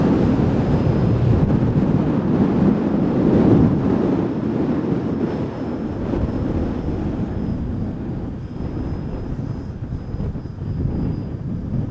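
Strong wind blows outdoors at a model jet flying field, a loud, steady rushing buffet across the microphone with a faint thin whine above it and no talking.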